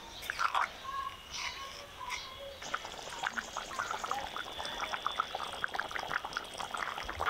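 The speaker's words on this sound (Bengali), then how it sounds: "মশলার সাথে মাংসগুলো কিছুক্ষণ কষিয়ে নিলাম, এবার ঝোলের জন্য অল্প জল দিয়ে দিব।" Water is poured into a pan of spiced chicken kosha, a faint liquid splash and gurgle over low bubbling, with a few soft utensil taps early on.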